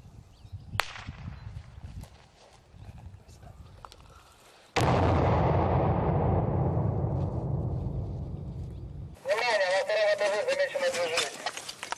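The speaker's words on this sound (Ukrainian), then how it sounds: "Підвал оминають стороною, але про всяк випадок туди жбурляють гранату." A grenade is thrown into a basement and explodes: a sharp crack, then a loud, booming blast that rumbles and fades over several seconds, followed by a burst of close, harsh noise.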